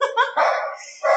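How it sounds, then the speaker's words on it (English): A dog barks three times in quick succession indoors, sharp yelping barks close to the microphone with short gaps between them. "I don't know if you can hear my dog barking"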